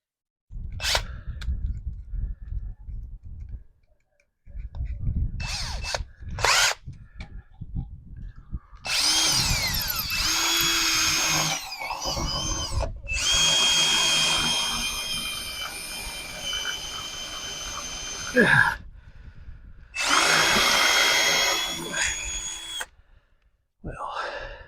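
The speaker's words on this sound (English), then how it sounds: "About the same size drill bit here, just a little bit bigger." A power drill with a drill bit bores through material during a scrap-budget RV sewer hose storage build, several loud whirring bursts of a few seconds each separated by pauses, with someone talking between them.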